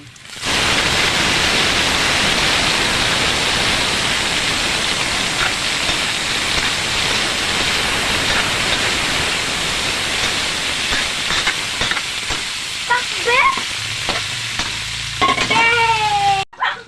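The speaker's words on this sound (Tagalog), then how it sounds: "ilagay na natin ang lahok. Igisa na muna natin." Ingredients sautéing in a pan, a loud, dense, continuous sizzle like heavy rain, with clinks and scrapes of utensils near the end.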